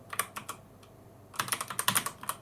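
Rapid typing on a mechanical keyboard bought from Temu, close and crisp, with quick clustered keystrokes, a brief pause, then a faster run of clicks.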